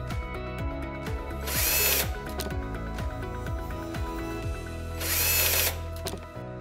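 A power screwdriver whirs in short bursts while removing screws from the controller of a 1U server, with ratcheting clicks and two louder, higher-pitched spins.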